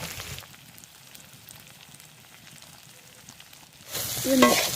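Potato and onion stir-fried in a pan for chowmein: a low, steady sizzle for several seconds, then a sudden louder burst of frying and scraping as the pieces are tossed.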